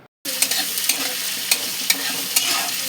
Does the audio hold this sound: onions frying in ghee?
yes